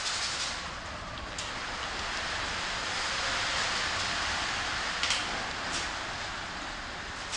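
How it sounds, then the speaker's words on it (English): Heavy rain falling outdoors as a dense, even hiss that holds steady throughout, with a few brief louder patters, moderately loud and with no talking. "The rain's getting harder."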